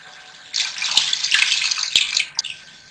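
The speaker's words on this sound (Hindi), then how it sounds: "जो यखनी है वो मैं डाल दूंगी।" Yakhni, a meat stock, pours into a pot of simmering aloo gosht in one continuous splashing stream lasting about two seconds, close, with a couple of sharp clinks.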